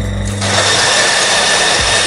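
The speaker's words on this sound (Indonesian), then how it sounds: "ini tempat penggilingan kopinya. Nah, kita akan giling." A manual coffee grinder crushes coffee beans in a barista school, giving a continuous close, gritty grinding noise with no talking.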